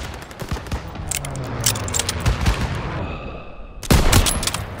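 A loud video game battle: dense fusillades of rifle and machine-gun fire crackle near and far around a courtyard flak gun, ending in a heavier close burst.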